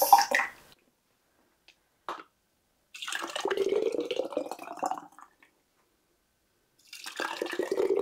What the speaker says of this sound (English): Let's start filling our jars.